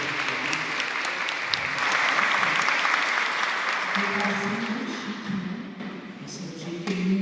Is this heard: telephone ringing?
no